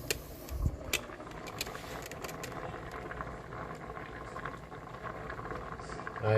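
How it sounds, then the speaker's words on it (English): Potatoes boil in a pot on the stove, giving a soft, steady bubbling and popping that stays fairly quiet and close, with a slight rise at the very end. "my potatoes are boiling."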